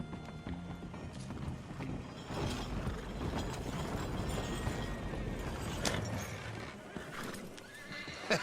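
Horse hooves clip-clop steadily on the ground in the Red Dead Redemption 2 game, with a whinny and some creaking, ratcheting mechanical clatter mixed into the close, dense sound.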